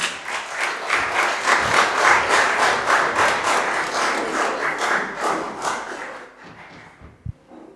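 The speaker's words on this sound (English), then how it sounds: "please, let's clap for this class once more" A school audience at a Year 11 music and drama show applauds a class with full, sustained clapping that thins and dies away near the end, followed by a lone dull thud.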